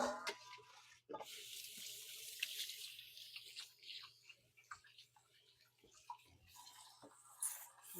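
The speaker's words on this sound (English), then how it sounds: "I'm going to wash my hands" Hands washed under a running kitchen tap, a soft, steady stream of water with splashing changes as the hands move, fairly faint, with a low hum underneath.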